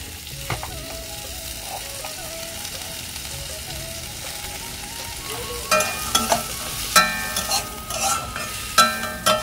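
Small diced potatoes cook in a pan with a low background sizzle, then several sharp scraping and clanking spatula strokes come in bursts during the second half; no talking.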